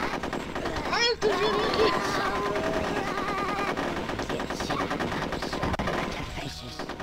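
Rapid bursts of gunfire from the Nintendo 64 game Conker's Bad Fur Day, repeated shots rattling over game music while a player talks through part of it.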